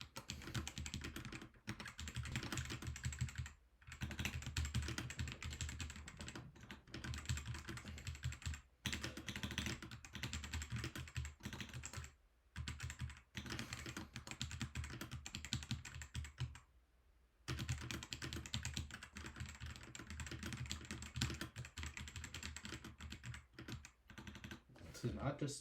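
Close, rapid typing on a computer keyboard runs almost continuously, with only brief pauses between bursts of key clicks.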